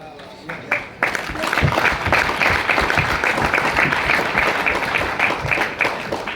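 Audience clapping from a large seminar crowd of a few hundred people, beginning after a brief quiet moment and continuing as dense, steady applause with some individual claps standing out.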